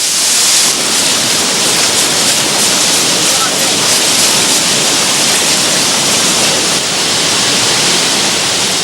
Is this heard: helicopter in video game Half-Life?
no